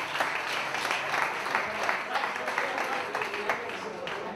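Crowd applause fills a sports team's player introductions. Dense, steady clapping continues throughout with a voice over it.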